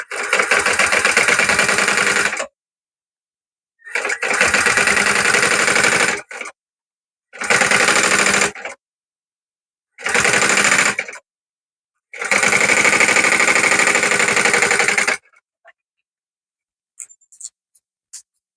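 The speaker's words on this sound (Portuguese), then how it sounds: "E agora eu vou fazer uma costura na beirada." A sewing machine stitches a seam along the edge of a fabric lining for a small zip pouch, running in five loud bursts of steady mechanical whirring separated by pauses, with faint handling clicks at the end.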